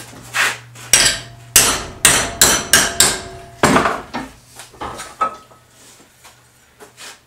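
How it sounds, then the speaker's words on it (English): A big hammer strikes a BM 250 motorcycle trials frame about a dozen times in quick, sharp, close metallic blows that gradually soften. "Can't beat belting things with a big hammer."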